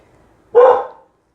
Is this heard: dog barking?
yes